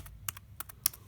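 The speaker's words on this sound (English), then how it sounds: "And the keyboard here, which is actually quite clicky." Clicky keys tapped on the small keyboard of an HP Jornada 720 handheld PC, a handful of quick close keystrokes in an uneven rhythm, heard alone with no talk.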